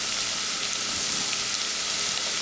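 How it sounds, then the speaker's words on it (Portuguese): Food sizzles steadily in a hot pan while being sautéed as part of the filling for ricotta and walnut cannelloni; a continuous close frying hiss with no talk. "Então, só refogando."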